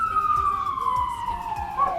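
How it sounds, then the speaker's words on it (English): Wailing emergency siren on New York City streets, a steady sweeping tone that drifts slowly downward across the whole stretch, with faint traffic noise and soft thumps beneath. "sirens going off"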